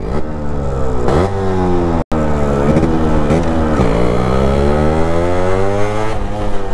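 Restored Yamaha RX-Z motorcycle on stock silencer, revving hard with a loud, close two-stroke engine note that rises and falls through several throttle blips, with a brief cut near the middle.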